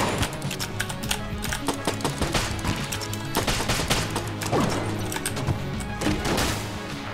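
Rapid gunfire from the dungeon-crawler shooter Enter the Gungeon, a dense stream of sharp shots crackling continuously over game music at steady volume, with no pauses.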